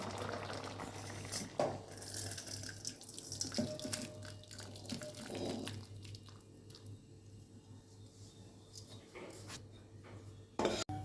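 Cooked raw moong dal with bottle gourd stems and greens is poured from a pot, giving soft wet splashing and sloshing, faint and intermittent, with a few scrapes of metal cookware.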